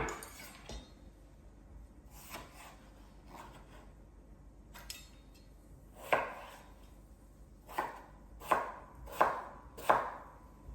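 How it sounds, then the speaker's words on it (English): Potatoes being cut on a board, a few soft early knife strokes followed by a series of sharper, louder chops in an uneven rhythm, close up with no talk. "I'm only going to cut up about 4 potatoes because I don't need a big pot of it."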